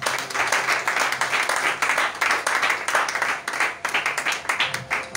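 A church congregation at a French-language worship service claps and cheers for Jesus, with dense, steady applause that keeps going for several seconds, close and loud.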